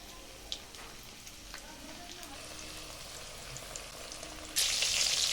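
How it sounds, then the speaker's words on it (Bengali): KFC-style chicken pieces fry in oil over low heat, giving a steady soft sizzle with a few faint clinks, then a louder, brighter burst of crackling near the end. "আমি একটা একটা করে কেএফসি চিকেনগুলো সব ভেজে নিই আবার একটা দিয়ে দিচ্ছি"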